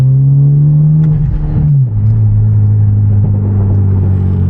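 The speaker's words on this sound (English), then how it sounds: "Gotta give him a rev first." A loud Genesis Coupe turbo engine with loud exhaust drones steadily at close range while revving, dipping briefly before its pitch shifts and settles into a deep, sustained rumble.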